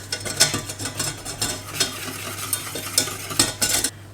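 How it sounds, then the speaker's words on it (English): A whisk beats flour into melted butter in a pan while making mac and cheese, brisk rhythmic scraping strokes close up over a gentle sizzle, with no talking. "I'm just going to mix it all in with the whisk."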